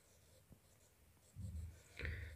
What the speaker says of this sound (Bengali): আমি লিখে দিচ্ছি এখানে